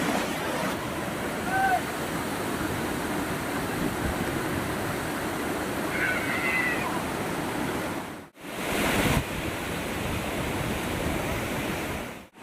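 The Ganesh waterfall at Mankadban Jamanpada roars as a steady, broad rush of falling water that fills the whole scene, with faint voices barely audible through it and a brief dip near the end.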